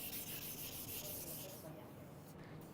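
A cast iron surface is rubbed with 400 grit sandpaper on a flat sanding pad, giving a faint, steady scratchy rasp of back-and-forth strokes that eases off near the end.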